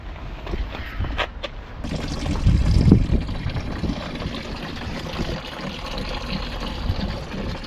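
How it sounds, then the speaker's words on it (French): Washer fluid drains out of a BMW 1 Series F20 into a basin, a steady close trickle and pour that swells briefly before settling into a continuous running flow. "pensez à mettre une bassine parce que forcément le liquide il va couler."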